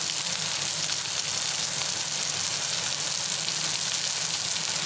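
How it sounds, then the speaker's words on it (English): Meatballs browning in a hot pan give a loud, steady, close sizzle that runs unbroken throughout, with no one talking. "I'm gonna brown them in the pan and then I'm gonna stick them in the oven with the sauce"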